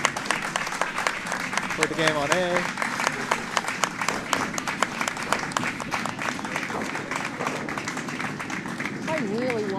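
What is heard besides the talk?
applause at a curling match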